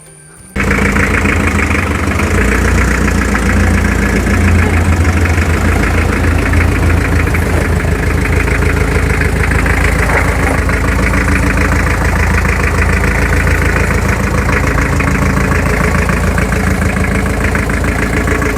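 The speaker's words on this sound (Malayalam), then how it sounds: "ഇപ്പം നമുക്ക് നേരെ വില്ലീസിനും ഓടിച്ചു നോക്കാം." A Willys jeep engine starts abruptly and then runs steadily at a loud, rough idle, a continuous low throbbing rumble with mechanical clatter and no pauses.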